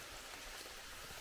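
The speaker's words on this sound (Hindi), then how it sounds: "अब भयंकर बारिश लग गई" Heavy rain pours down through a dense forest at night, a steady, even wash of drops hitting foliage and ground, continuous and enveloping with no voices.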